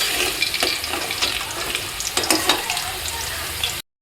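Potatoes being lifted slowly out of hot oil in a kadai while cooking mutton curry, a steady crackling sizzle with small scraping and stirring clicks, close and continuous before cutting off abruptly.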